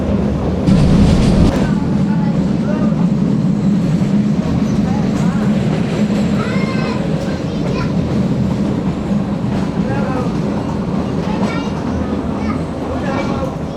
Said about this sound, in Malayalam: നമ്മളങ്ങനെ സാസൻഗീർ എന്ന് പറഞ്ഞ സ്റ്റേഷനിലേക്ക് എത്തുകയാണ്.